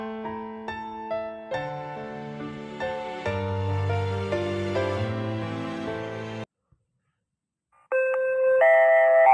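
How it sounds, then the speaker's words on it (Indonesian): A school bell chime rings out at the start of class, a long melodic sequence of bright electronic doorbell-like tones played alone, then a short pause before another chiming phrase begins. "bel tanda masuk telah berbunyi"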